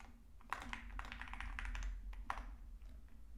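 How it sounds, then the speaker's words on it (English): Rapid clicking keystrokes on a computer keyboard while code is entered for a SwiftUI stocks app, a steady close-up patter with no talking. "let's just type them out"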